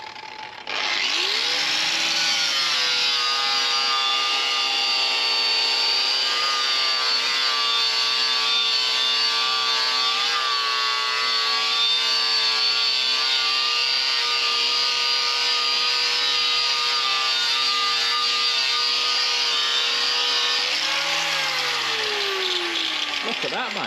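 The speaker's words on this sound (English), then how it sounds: "Now I'm using the grinder with a Pro Max" An angle grinder fitted with a felt flap disc buffs compound onto an ERF EC truck wheel, a steady, loud, continuous whine with a rubbing edge, spinning up at the start and winding down near the end.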